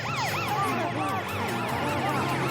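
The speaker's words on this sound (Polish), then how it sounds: "Syrena policyjna oczyści drogę." A police siren wails loudly and continuously, its pitch sweeping up and down in rapid repeated cycles.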